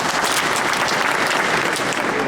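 Steady, dense applause from an audience at a meeting about brokers and drivers in Edmonton fills the whole stretch at close range, loud and unbroken, with no talking over it.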